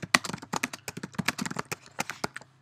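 Irregular, crisp clicks of fingers tapping a computer keyboard, quick and close, a steady run of keystrokes with small pauses.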